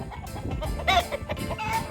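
Homestead farm chickens cluck nearby in short, throaty bursts, several birds overlapping in a rough, uneven rhythm with no one speaking.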